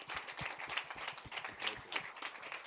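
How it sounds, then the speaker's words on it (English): Audience at a digital conference in Lienz applauding, a brisk burst of many hands clapping in a hall, moderately loud and continuous for a few seconds. "some big applause for this very, very successful day"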